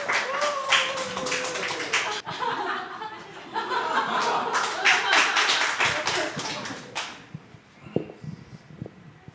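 A church congregation claps in welcome as two members come forward to sing a special song during a Sunday worship service, a dense burst of many hands with some chuckling and talk mixed in before it fades.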